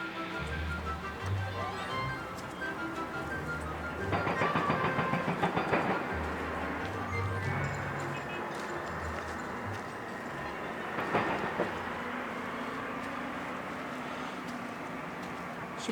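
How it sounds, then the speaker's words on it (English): Quarry machinery working on a Lake District fellside near Lingmoor, a distant steady mechanical rumble and drone with occasional heavier clattering swells and a faint rhythmic knocking, outdoors and continuous. "You've got the noise of the quarry working away"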